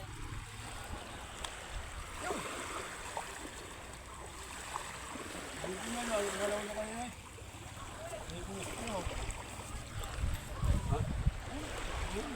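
Sea waves wash and churn under blustery wind during a typhoon, a steady rough rush with surges near the end, while people talk intermittently underneath.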